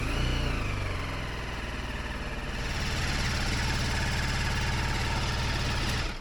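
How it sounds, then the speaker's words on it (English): A 2022 BMW G310 GS motorcycle engine starts and idles right after an oil filter change, a close, steady, even mechanical rumble with a faint rise after about two seconds, then a sudden stop. "Start the engine for 30 seconds."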